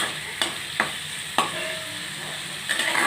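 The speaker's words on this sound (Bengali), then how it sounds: "আরও একটু টমেটো রয়ে গেছিলো, তাই দিয়ে দিচ্ছি, জোর দিয়ে দিচ্ছি। ভালো করে কষিয়ে নিচ্ছি" Khichuri masala with chicken mince and tomato stir-fried in a pan, steady close sizzle broken by a few sharp spatula knocks against the pot, no talk.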